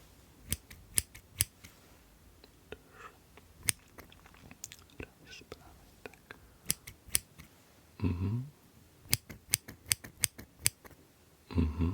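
Scissors clicking in a quiet close-up setting, sharp snips scattered irregularly across the stretch, some in quick clusters, with soft whispered voice in two short bursts.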